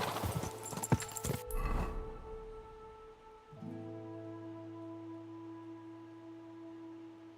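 Horse hooves clip-clopping in the video game Kingdom Come: Deliverance 2, a short burst of close hoof clatter for about two seconds that gives way to a steady low ambient hum.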